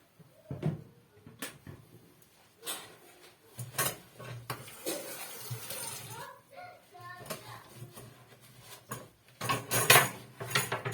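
Dishes washed with a sponge clatter in a sink with water running in bursts, cutlery and plates knocking intermittently, close by and fairly quiet.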